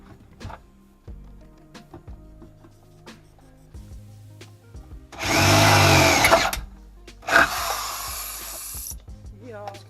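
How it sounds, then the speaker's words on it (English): Power drill with a 3/8 bit drilling out punched holes, two loud whirring bursts of a few seconds each, close up, separated by clicks and handling noises. "Now I'm going to set up the drill and drill this out."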